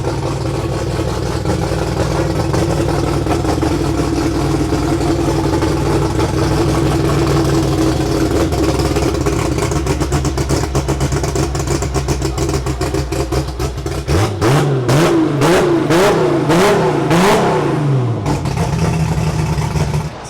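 A 3000HP drag car with a billet 3.2 liter RB30 engine and 111 mm turbo idles loud and lumpy, then revs in quick sharp bursts with popping and crackling before settling back to a heavy idle.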